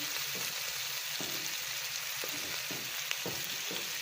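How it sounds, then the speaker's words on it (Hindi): Tomatoes fry with spices in a pan for potato patties: a constant close sizzle broken by several soft scrapes and knocks of a spoon stirring at irregular intervals, with no talking. "टमाटर सॉफ्ट होने तक बस इसको पकाएंगे और इसमें सारे मसाले भी शामिल कर देते हैं"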